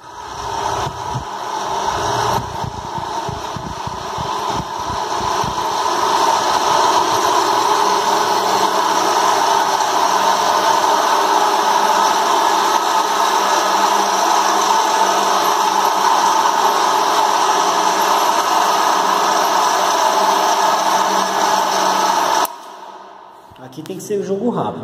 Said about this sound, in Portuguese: agora ligar a máquina